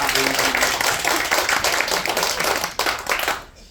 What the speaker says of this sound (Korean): 박수나 좀 한번 쳐봐.